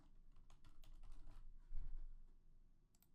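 Keys clatter in a quick, uneven run of light clicks as text is typed on a computer keyboard while working in CorelDRAW, fairly close and quiet, with a brief pause before a few final taps.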